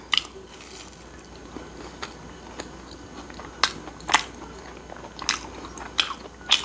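Biting into and chewing a fried shrimp ball, close crisp crunches repeating irregularly over soft wet chewing sounds, growing louder and more frequent toward the end, with no talking.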